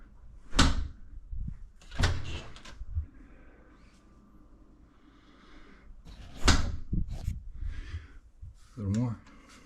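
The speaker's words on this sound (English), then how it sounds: "test your door" Door swinging shut under a newly installed, freshly adjusted door closer, with several distinct thuds and bumps spread across the clip between quieter handling noises.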